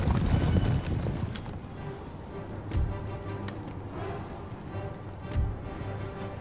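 Cavalry hooves in Empire: Total War as a regiment of horse rides across the battlefield, a continuous mid-distance clatter that swells in a few surges.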